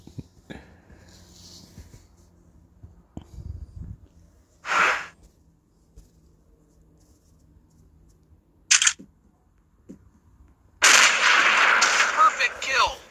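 Gunfire from an M200 sniper rifle in the video game Hunting Sniper: a few sharp, loud shots spaced seconds apart, the last followed by a longer burst of noisy decay, over a quiet background.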